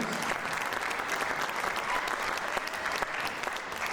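A school concert audience at Heights High School gives the students sustained, dense applause that stays even and full, with faint voices underneath.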